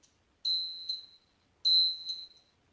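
A Cheerson CX-10C quadcopter transmitter gives two clear, high electronic beeps as it powers on, each lasting under a second and spaced about a second apart, in an otherwise quiet room.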